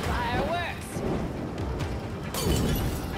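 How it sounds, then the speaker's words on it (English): Fireworks in the video game Gotham Knights, a run of booming bursts and crackling pops over a rumbling backdrop, with game tones and effects mixed in and a louder burst late on. "Enjoying the fireworks."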